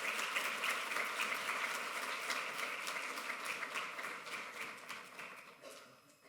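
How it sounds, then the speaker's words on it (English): Audience applause at a design week talk in Nashville, a fairly quiet and distant patter of clapping that fades gradually toward the end. "Please give him a round of applause."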